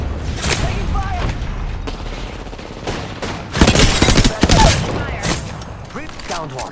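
Gunfire in the battle royale video game Apex Legends comes in sharp, loud bursts and rapid volleys, mixed with heavier booming impacts and game effects throughout.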